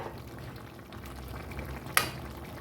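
Soybean curry bubbles and simmers steadily in a covered pan with a soft, continuous frying hiss, broken near the end by one sharp metallic clink of the lid.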